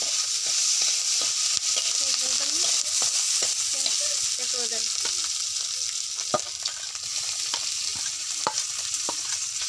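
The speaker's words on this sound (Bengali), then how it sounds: "আগে রসুনটা দিয়ে দিব। রসুনটা হালকা ভেজে নেব।" Garlic frying lightly in oil, a steady close hiss of sizzling with sparse sharp clicks of a stirring spoon against the pan and a faint voice-like murmur in the background.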